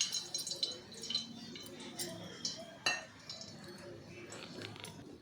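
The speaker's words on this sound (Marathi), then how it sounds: "तर त्याच्यामध्ये तेल टाकत आहे." Oil poured into a hot cooking pot on a gas stove, faint drips and light clinks of metal against the pot with a soft sizzle, quiet and close, under low background noise.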